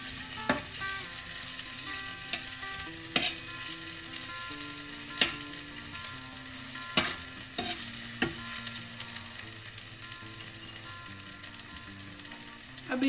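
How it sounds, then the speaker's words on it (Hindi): Six garlic cloves sauté in hot oil for vegetable Hakka noodles, a steady close sizzle and frying hiss with occasional sharp clicks from stirring utensils against the pan, and no talking. "मैंने यहाँ 6 क्लोव्स लिए हैं गार्लिक के, वो हम डाल देंगे। मैं इसे अच्छे से सॉटे कर लेंगे।"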